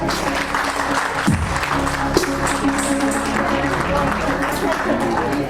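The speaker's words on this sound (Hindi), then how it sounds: "क्या आपको नहीं लगता कि तालियां होनी चाहिए यहाँ पर?" At a women's day event held for International Women's Day, an audience claps in a dense, continuous burst of applause. A voice speaks over it through a hall sound system.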